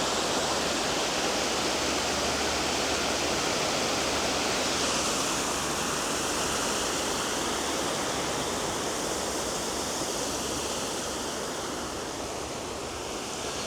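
Water rushes steadily along a river in the Rivelin Valley near a weir, a broad continuous loud hiss that barely changes and has no voices over it.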